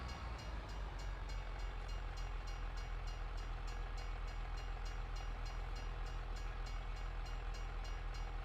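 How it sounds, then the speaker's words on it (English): A train rolls past in the Farming Simulator 25 farming game, a faint, steady rumble with regular wheel clicks repeating throughout, no talk over it. "Choo-choo train."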